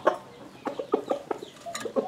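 Spotted dove of a mixed wild field-caught type cooing in a series of short, rhythmic, mellow calls, close and clear, with small pauses between phrases.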